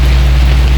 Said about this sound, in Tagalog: lumakas uli ulan